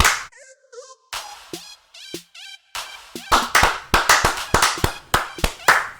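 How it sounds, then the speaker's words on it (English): Hand clapping for the Detroit Lions: a few sparse, sharp claps after a brief murmur, then a quicker run of crisp, close claps. "we're just going to give a round of applause to the Detroit Lions"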